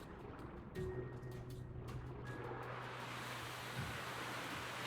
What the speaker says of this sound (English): Waves are starting to pick up, you can hear it.